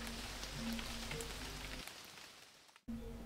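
Light drizzle falls at night on a mountain trail, a steady close patter of fine raindrops on surfaces with no voices, dropping away sharply near the end.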